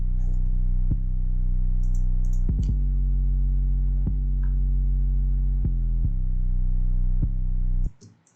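Deep sustained 808 bass from a drum kit, long booming low notes with sharp attacks, retriggered roughly every second alongside light clicking hits, loud and alone before fading out at the end.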